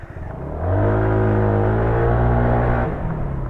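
A 59cc all-stock motorcycle with a stock exhaust pipe, freshly given a fuel-injection cleaning, revs up and holds a strong, steady high-pitched whine for a couple of seconds close by, then eases off.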